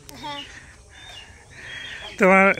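A pet common myna gives several short chirps and squeaky whistled calls nearby, ending in a loud, harsh burst of repeated notes. Faint voices sound in the background.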